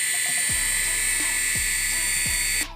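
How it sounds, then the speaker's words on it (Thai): A toy radio-controlled helicopter flies nearby with a steady high-pitched electric motor whine and rotor buzz that holds throughout, then suddenly cuts off at the end, with faint periodic low thumps underneath. "ก็อันนี้ก็เป็น เฮลิคอปเตอร์ครับ วิ่ง แบบนี้นะครับ นี่ครับบินนะครับ"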